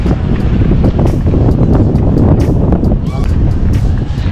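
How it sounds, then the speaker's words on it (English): Strong wind buffeting the microphone on a blustery day on an open college campus in Cincinnati, Ohio, a loud, steady roar with gusty swells and people talking underneath. "it's a very windy day today"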